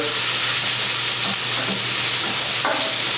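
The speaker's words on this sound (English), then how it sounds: "We're going to move this around. We're going to add the last bit of butter." Brussels sprouts and onions fry in butter in a pan, giving a loud continuous sizzle with occasional scraping knocks as they are stirred, with no talking.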